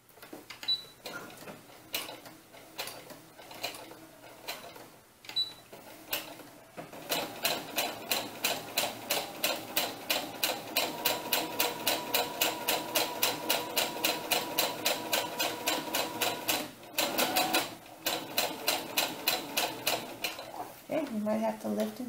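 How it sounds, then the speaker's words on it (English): A serger sewing machine stitching a quarter-inch seam around a doll dress, running in a fast, steady mechanical patter that starts after a few seconds, pauses briefly, then resumes up close. "we're just going to sew a 1/4 inch all the way around"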